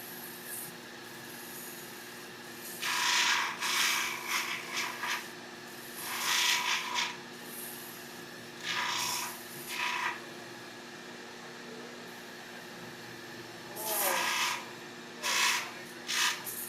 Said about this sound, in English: he is taking the deep sanding scratches out as well